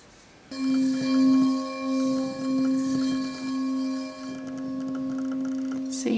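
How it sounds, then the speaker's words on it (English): A crystal singing bowl rings with a steady, sustained pure tone and shimmering overtones, swelling and pulsing gently in loudness for several seconds after it starts, with no talking. "This is the crystal singing bowl."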